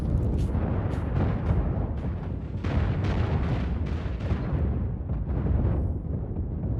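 Turret weapon firing in a spaceship combat video game, a dense, continuous barrage of loud booming blasts and bursts with sharp repeated impacts throughout, no voices.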